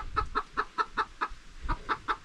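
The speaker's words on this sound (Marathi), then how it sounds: "घरी आलो आहे तरी कोंबडी इकडे ओरडते." A hen clucking in a Kokan village house yard, a steady run of about a dozen short rhythmic clucks, fairly close and clear.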